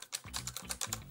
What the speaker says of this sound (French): Clavier Corsair qui est mécanique.